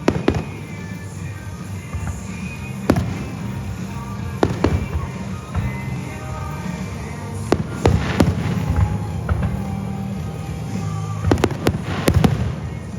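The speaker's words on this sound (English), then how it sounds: "let's just enjoy some fireworks for a little bit here" Fourth of July fireworks at Six Flags Great Adventure, a long string of sharp cracks and booming bursts at irregular intervals over a steady crowd and ambient rumble, heard from a distance.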